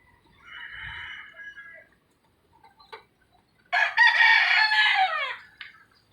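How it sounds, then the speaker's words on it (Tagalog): Chickens in a neighborhood yard: a short burst of clucking early on, then a loud rooster crow ringing out nearby, with quiet gaps between calls and no talking over them. "Bitas yan, daming manok dito."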